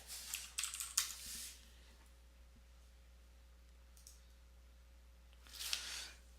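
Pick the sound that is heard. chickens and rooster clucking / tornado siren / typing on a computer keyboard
typing on a computer keyboard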